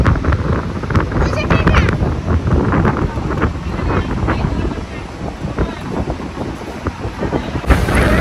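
Strong night wind at the seashore buffets the microphone in loud, continuous gusts, with people talking over the roar.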